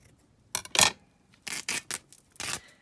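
Scissors snip through a piece of lace for a paper ephemera craft, a few short crisp cutting strokes in quick bursts, close and fairly quiet, with no talk.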